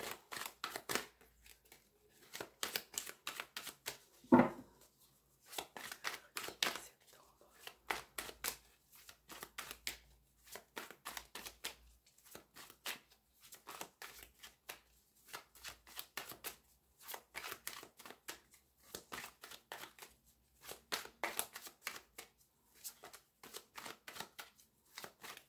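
Tarot cards being shuffled by hand in repeated quick riffling bursts, close and fairly quiet, with short pauses between shuffles and no talking.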